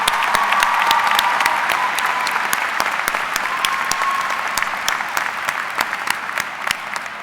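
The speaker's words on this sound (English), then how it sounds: "Please give them a round of applause." An audience at a graduation ceremony applauds, a dense and steady clapping from a large crowd that carries on throughout, loud and close with no voices over it.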